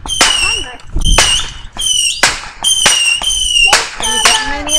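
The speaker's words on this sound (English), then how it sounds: "So why do you people set up fireworks on the 4th of July?" Daytime fireworks and firecrackers on the Fourth of July explode in a series of sharp, loud bangs spaced irregularly a fraction of a second apart, some with whistling squeals, close by.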